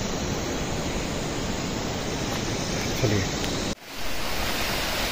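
Mountain waterfall spilling down on the trek from Govindghat to Govind Dham, a dense, constant roar of rushing water that drops out briefly for a moment before resuming, with a single short spoken word over it.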